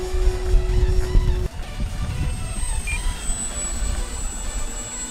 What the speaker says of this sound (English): she's a good flying airplane.